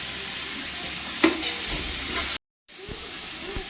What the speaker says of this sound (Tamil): நல்லா கிண்டி விடுவோம்.